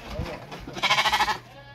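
Sheep in a Moroccan livestock pen bleat in a loud, quavering call near the microphone, preceded by low shuffling and animal noises; a voice talks faintly around it.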